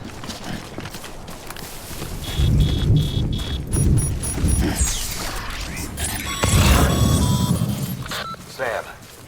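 Timefall rain and thunder in the video game Death Stranding: steady rain hiss with rolling rumbles of thunder and mechanical clatter, loud and continuous throughout, alongside scattered game sound effects.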